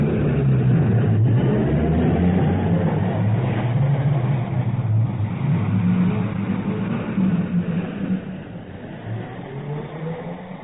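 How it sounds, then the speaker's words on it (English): Emergency vehicles, including an ambulance and cars, pull out of a London station after an air raid warning, their engines rumbling in a steady low drone that thins out toward the end. "They're all in the cars now. They're out of the station already."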